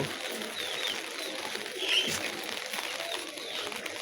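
Pigeons cooing eagerly at feeding time on a rainy day, a dense, continuous chorus of soft coos and flutter close by, steady throughout with no talk.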